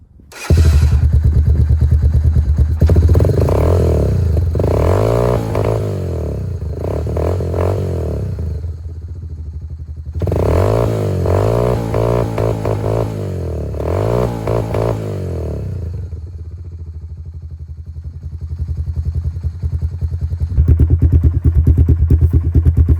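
A Honda Fourtrax 300 ATV with a new performance CDI box starts and runs nearby, giving a loud, rough engine drone with a clattering idle and repeated rising revs, and no voices.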